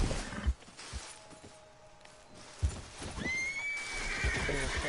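A horse in Red Dead Redemption 2 neighs and whinnies loudly, with a rising squeal near the end, amid clip-clop hooves and a couple of sharp thuds in the game's outdoor scene.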